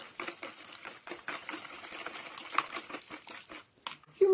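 Cake batter for a carrot, walnut and cinnamon cake is whisked in a bowl, making rapid continuous tapping and rattling strokes, close and moderately loud, ending with a brief knock.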